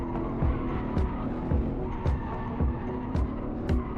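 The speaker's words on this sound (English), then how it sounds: "I lift off throttle quickly to let the car transition and hold angle over the dip, then transition" A car drifts in the Assetto Corsa racing game: a continuous engine roar with tire squeal, plus short recurring bursts about every half second as the throttle is lifted and the car transitions through corners.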